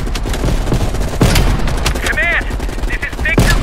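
Call of Duty Black Ops Cold War firefight with sniper rifle and gunfire, loud booming shots and rapid bursts over dense battle noise, with whistling electronic tones and crackling blasts throughout.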